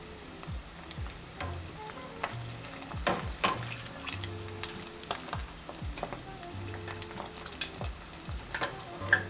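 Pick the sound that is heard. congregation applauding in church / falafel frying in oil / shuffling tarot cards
falafel frying in oil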